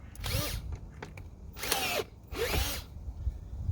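Power drill boring a one-inch hole for a winter water tank heating setup, three separate close whining bursts of about half a second each, separated by short pauses.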